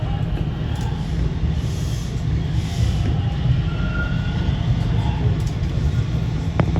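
A Toronto TTC subway train runs toward Kennedy Station with a loud, steady rumble of wheels on track heard from inside the car, and a brief sharp click near the end.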